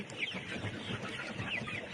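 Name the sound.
chickens clucking in a poultry house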